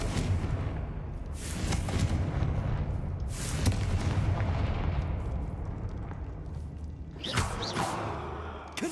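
Spell-casting in Hogwarts Legacy near a damaged bridge, with several sharp whooshing blasts and booming bursts over a steady low rumble of game ambience, loud and close, no talk.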